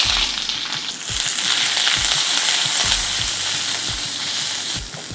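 Sliced onions sizzle steadily in hot oil with mustard seeds and curry leaves, a loud continuous fry broken by regular scraping taps of a spoon stirring the pan.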